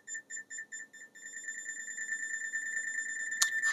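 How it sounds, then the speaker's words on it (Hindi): A Vartech 2101+ AC/DC clamp multimeter beeping near live wiring: a quick series of sharp electronic beeps that then merges into a continuous high tone, close and fairly loud. "जब भी आप किसी वायर के ऊपर होंगे तो बिल्कुल ये बीप ऐसे ही मार के बताएगा आपको"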